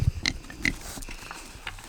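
Pigs in a pen at feeding time give short, scattered grunts and snuffles, fairly faint and close, with brief pauses between them.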